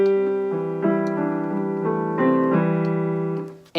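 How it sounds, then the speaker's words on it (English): Electronic keyboard set to a piano voice, playing a short sequence of sustained notes and chords, close and clear with no talk. "Here's the sound of a piano."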